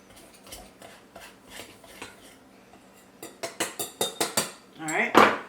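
Butter being worked into biscuit dough crumbs in a bowl, producing a run of clinking, scraping strokes that grow louder and quicker toward the end, close by, with no speech over them.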